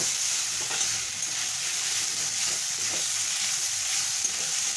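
Grated coconut fries in a pan for a taro leaf dish, giving a dense, even, continuous sizzle close by with faint stirring scrapes underneath and no voices.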